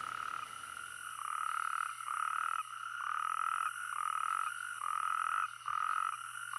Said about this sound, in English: With the onset of the rainy season, male natterjack toads claim their territories.